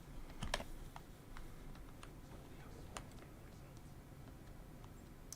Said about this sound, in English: Oh, it's my keyboard.